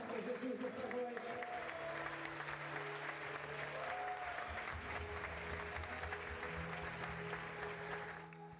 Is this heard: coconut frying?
no